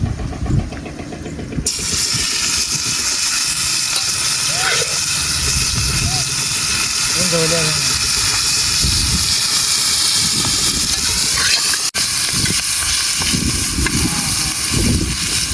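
Country chicken sears on a hot tawa outdoors on a Konkan hillside, giving a loud, continuous sizzling hiss that runs through the whole stretch while voices talk over it.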